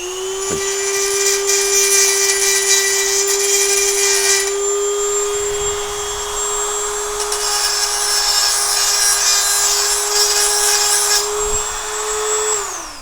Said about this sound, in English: I'm going to use this little grinding bit here from my Dremel